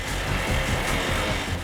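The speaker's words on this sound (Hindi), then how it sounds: "रुको, हम तुम्हें कुछ बाइक्स की आवाजें सुनाएंगे।" A motorbike engine heard up close in a short burst, a loud rough rumbling drone with a grainy pulsing texture, no voices.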